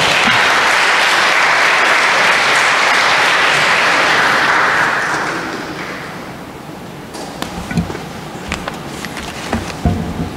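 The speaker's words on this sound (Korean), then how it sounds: "잠시 박수로 여기 맞아드릴까요?" An audience at a Catholic parish Mass claps to welcome the parish council president. The applause is dense and sustained for about five seconds, then thins into scattered claps and thumps.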